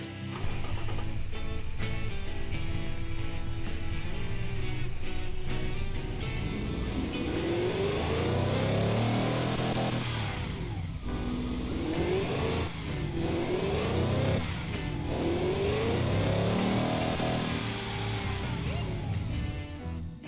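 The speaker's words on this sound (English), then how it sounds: "let's rev the engine a bit to see how this V16 actually sounds" A powerful V16 engine in a video game revs repeatedly, its pitch climbing and dropping in several loud surges over a steady rumble, with faint voices in the background.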